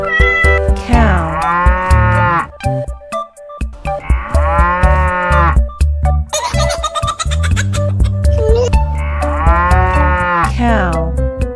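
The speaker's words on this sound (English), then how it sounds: "cow." A cow moos several times in long, loud, sustained lows, separated by short breaks and backed by a lively musical bed, with no speech.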